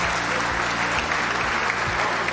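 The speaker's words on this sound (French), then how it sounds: "On peut les applaudir bien fort, en tout cas" Steady crowd applause at a French robotics cup final after a match, dense continuous clapping filling the whole moment, with a low mechanical hum running underneath.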